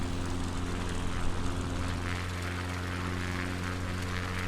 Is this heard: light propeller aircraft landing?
yes